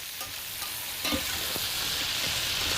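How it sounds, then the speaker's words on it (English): Cabbage sizzles in bacon drippings while being stirred, a steady close hiss of frying with faint stirring movements underneath, quiet and without talk. "Stir that all together."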